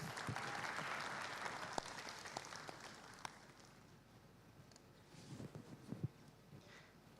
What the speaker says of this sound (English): So give a round of applause, Miss Relin Shah